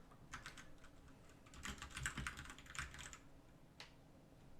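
Quiet typing on a computer keyboard, with bursts of rapid key clicks and a final single keystroke, heard alone at low level.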